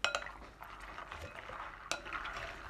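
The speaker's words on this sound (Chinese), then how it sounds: "加入适量的清水，把核桃仁清洗干净" Walnut kernels are swished and rinsed by hand in water in a bowl, giving soft sloshing and wet rubbing with a couple of sharper clinks against the bowl, close and quiet with no talk.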